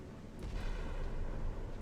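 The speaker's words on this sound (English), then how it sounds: "Gunfire." Naval gunfire in the video game Sea Power, a dense, heavy rumbling roar of guns at sea, sustained and fairly loud over about two seconds with no talk.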